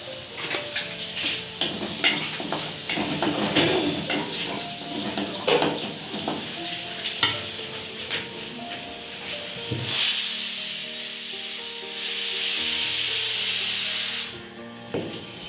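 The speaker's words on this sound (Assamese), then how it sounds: "এইখিনি ৰঙচুৱা একেবাৰে ভজা হৈ গ'ল" Taro and greens frying in a pan. Close clattering stirring and crackling sizzle give way to a louder, steady frying hiss near the end, with no talking.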